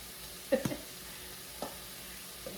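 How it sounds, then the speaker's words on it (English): Corned beef and cabbage cooking in a pan gets stirred, with a couple of soft scraping clinks and light sizzle over a faint, quiet background. "Okay, let's give this a stir."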